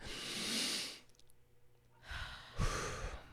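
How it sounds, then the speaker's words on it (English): Two people take a deep breath together, a long audible inhale followed after a pause by a breathy exhale and a soft sigh, close and quiet with no speech. "Take a deep breath."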